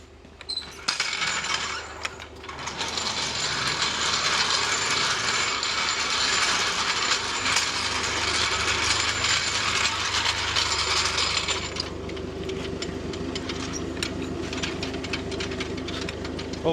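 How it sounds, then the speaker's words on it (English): A floor jack is pumped to raise a load, giving a steady mechanical ratcheting clatter that runs for several seconds, then stops, leaving quieter background noise. "I'm just using a floor jack. And I'm gonna jack it up."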